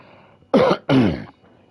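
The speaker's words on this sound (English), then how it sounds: "I've got a cough." Two quick, loud coughs, close up, one right after the other with a short gap.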